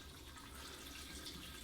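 Water poured from a watering can into an aquarium tank, splashing off driftwood onto washed gravel, a steady continuous splashing rush that stays close and even throughout.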